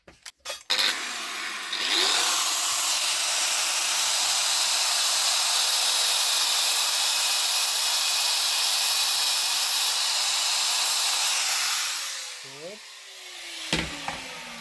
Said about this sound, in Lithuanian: liko atpjauti, nes varžtas ilgas